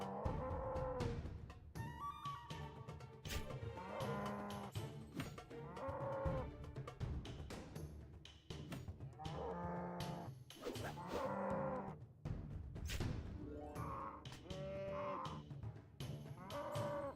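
Cows in the RuneScape 3 video game moo repeatedly, with overlapping long, low calls following one another steadily over a faint game background.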